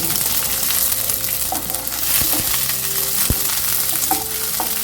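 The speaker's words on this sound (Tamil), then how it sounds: "நம்ம கட் பண்ணி வச்சுருக்கிற ஆனியனும் வரமிளகாயும் கறிவேப்பிலையும் கலந்துக்குவோம் அடுத்த சிம்மில் வச்சு கிளறி" Chopped onions, dried red chillies and curry leaves sizzling and crackling in hot oil in a pan, with occasional scraping taps of a spoon as they are stirred; steady and close.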